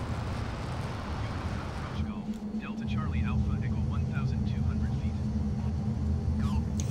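An F-15 jet fighter engine in Microsoft Flight Simulator, a loud, steady roaring rumble that rises in intensity partway through, heard under someone talking.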